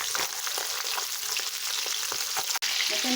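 Fish fries in hot oil in a pan, with a steady crackling sizzle and occasional spatter pops, close and fairly loud, with no voices.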